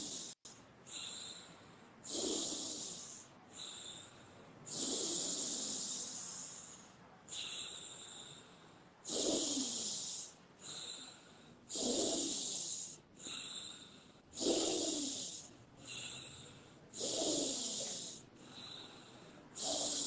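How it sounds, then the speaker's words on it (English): Deep connected breathing exercise: a steady cycle of strong inhales and hissing exhales repeating every couple of seconds, close and clear, with no talking. "So deep breath in, exhaling, and let's begin for 20 connected breaths."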